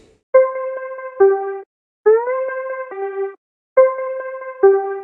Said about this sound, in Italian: Il gross beat e fa così.